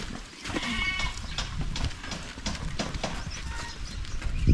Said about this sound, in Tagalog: yung mga kambing natin ng babae dito ngayon